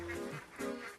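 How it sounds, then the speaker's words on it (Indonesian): Duck quacking close by in a restaurant kitchen, a few harsh nasal quacks run together in about a second, loud and alone. "Beneran ada bebek"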